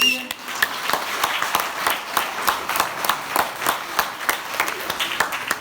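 A group of people clap together in a steady, quick rhythm, the claps evenly spaced and continuing throughout, with indistinct voices murmuring underneath.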